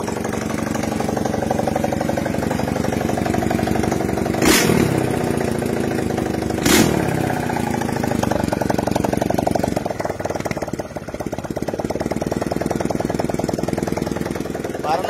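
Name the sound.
four-valve motorcycle engine running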